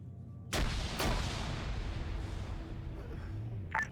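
A grenade explosion in the military shooter Arma 3, a sharp loud blast followed half a second later by a second burst, then a long rumbling decay under faint distant activity.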